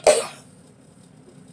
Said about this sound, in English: I don't want this making me cough so bad